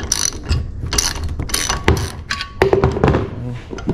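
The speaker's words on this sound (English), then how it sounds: "And then we're gonna crack the tool loose." A flaring tool for stainless steel tubing is cracked loose, giving a run of close metallic ratchet clicks, clunks and taps with brief squeaks from the mechanism.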